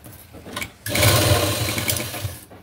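Sewing machine running a continuous stitching burst on a blouse sleeve seam, with a brief start before a steady, close, fairly loud whirring hum that stops at the end; no talking.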